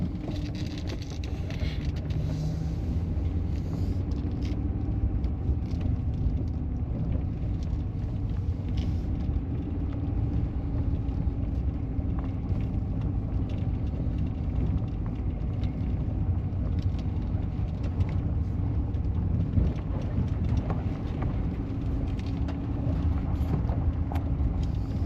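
A pickup truck drives down a road beside the Columbia River, giving a steady, continuous low engine rumble and road noise with some wind buffeting, close and constant throughout with no talking.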